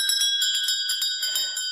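A ringing bell used as a sound effect in a live dramatic reading of A Christmas Carol, with rapid repeated bright metallic strikes that sustain a steady tone, heard clear and alone.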